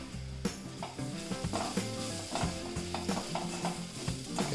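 Chicken masala is mixed into black chicken curry in a pan: a spoon scrapes and knocks against the metal in quick, irregular strokes over a soft sizzle, close and fairly quiet, with no voices.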